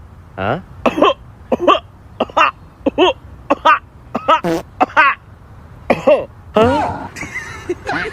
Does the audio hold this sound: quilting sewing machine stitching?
no